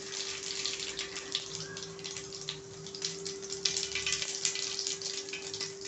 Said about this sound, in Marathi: जिरं छान तडतडलं ना